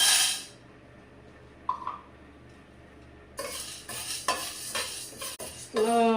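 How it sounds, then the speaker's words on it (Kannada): Chana dal is frying in a hot pan (banali) as it is stirred, heard as metal scrapes and clinks with a light sizzle. A quiet stretch comes first, then stirring resumes in several louder bursts, close by. "ಈಗ ಫ್ರೈ ಮಾಡೋಣ ಈಗ ಬಾಣಲಿ ಬಿಸಿಯಾಗಿದೆ ಕಡಲೆಬೇಳೆ ಇದ್ದೀನಿ"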